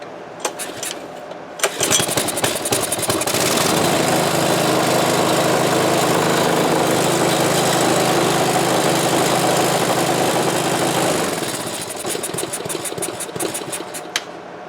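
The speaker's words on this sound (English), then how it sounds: "Alright, so I got the motor on." A Craftsman rototiller with a Briggs Intek engine pulls to start, then runs loud and steady at a constant pitch before easing down slightly toward the end.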